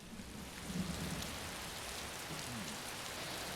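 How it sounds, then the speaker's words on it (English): Steady rain falling in Elder Scrolls Online, a continuous soft hiss of raindrops heard indoors in a castle with faint low rumbling underneath, unbroken and without talk. "It would be one thing if you could hear the thunder through the castle walls, but the raindrops..."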